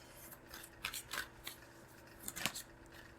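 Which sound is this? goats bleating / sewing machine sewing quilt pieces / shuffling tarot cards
shuffling tarot cards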